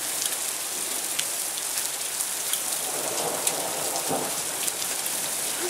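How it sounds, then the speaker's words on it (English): Steady rain patters on surfaces outdoors near a field during a lightning storm, with low rumbles of thunder rolling underneath the constant hiss of the downpour. "That's going, we've got rain. The sky itself is just full of lightning."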